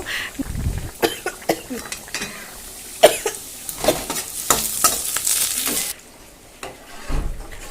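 Dal with freshly added tempering sizzles on the stove, heard as irregular stirring clatter and frying hiss with brief louder bursts and a cough-like sound, close by, with some voice present.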